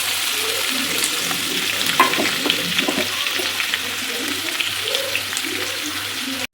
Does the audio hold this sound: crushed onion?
yes